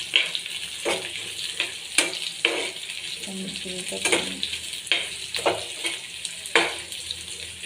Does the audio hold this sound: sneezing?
no